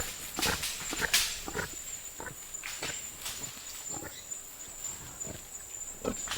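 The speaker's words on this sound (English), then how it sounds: "The fearsome faces of the intruders mask nothing more dangerous than a pig, the strange babirusa." A strange babirusa, a wild Asian pig, snuffles and grunts in repeated short bursts close by, over a steady high insect drone in a forest setting.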